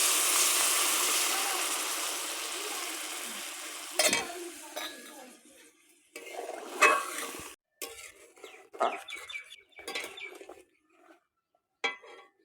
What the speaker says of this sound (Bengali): কষা হয়ে গেছে, এর মধ্যে আমি জলটা দিয়ে দেব।